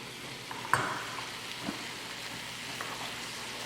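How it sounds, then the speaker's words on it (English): Spaghetti with tuna, tomatoes, parsley and lemon zest being stirred in a hot pan, a steady soft sizzle with a sharp utensil clink early and a few light scraping stirs, no talk. "good stir together."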